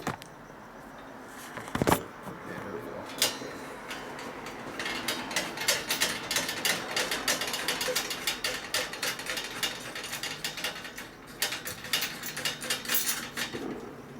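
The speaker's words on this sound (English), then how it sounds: "I'm going to run this nut all the way down." A nut is spun down a threaded rod on an antique bronze chandelier, giving close metallic clicking, ratcheting and rattling at fair volume with brief pauses between bursts.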